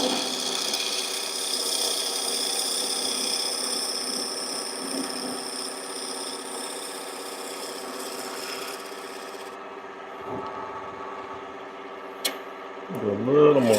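A spindle gouge cuts a carving mallet blank spinning on a wood lathe, giving a steady scraping, rasping whir that runs nearly throughout before easing off near the end.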